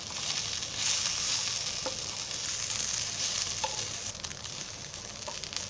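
A spice masala with ginger and garlic roasts in a pan for stuffed tomatoes, giving a steady, close hiss of sizzling throughout, broken by a few faint clicks and scrapes of stirring.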